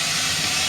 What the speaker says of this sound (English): we should be starting to get a trickle of steam through